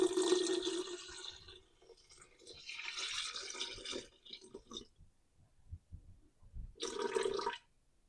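Warm tap water poured into a mixing bowl sitting on a kitchen scale while making pumpkin seed sourdough, a steady splashing pour that stops, then a short second burst of pouring after a pause with light clinks.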